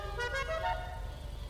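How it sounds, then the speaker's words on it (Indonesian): A car horn in GTA V, modified in a street-racing style, sounds as a steady buzzing tone lasting over a second and a half over a low engine drone. "Nah, kita cobain klakson ya."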